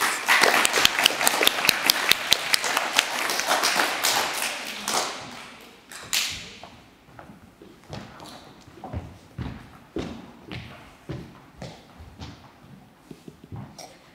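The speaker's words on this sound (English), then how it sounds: "Can we give them another round of applause?" A burst of applause from a group at a school presentation day, loud dense clapping that thins out into scattered, slower claps trailing off over several seconds.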